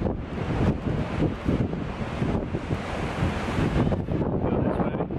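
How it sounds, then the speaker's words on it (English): Strong wind gusting into the microphone at a windy outdoor viewpoint, a loud rumbling buffet that swells and dips throughout with no clear speech. "Probably getting a lot of wind right now."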